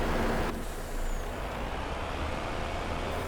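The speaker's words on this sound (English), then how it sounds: "Let me go ahead and move the truck forward a little bit." A truck in Farming Simulator 22 gives a sharp burst of air-brake hiss at the start, then a steady engine rumble and rushing noise continue as it rolls forward.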